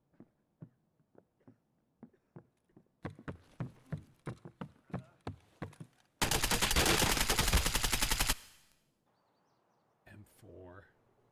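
M4 assault rifle fire in Escape From Tarkov: a string of separate single shots at a steady pace grows louder, then breaks into a loud sustained automatic burst lasting about two seconds, followed by quiet and a brief voice.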